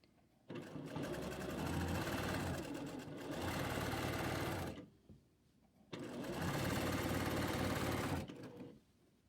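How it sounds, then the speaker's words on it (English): A sewing machine stitching a fabric casing close to the edge on a Baja garment. Two loud, close bursts of steady whirring stitching are separated by a short pause, with no talking. "we're going to sew the casing the same way, really close to the edge so that we really nail it down"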